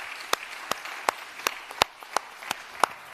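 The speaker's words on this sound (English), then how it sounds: "please join me in giving a round of applause to our distinguished panelists for their excellent" Scattered, fairly faint claps from a small audience applauding panelists at a conference session, about nine separate sharp claps spread at an uneven, slow pace.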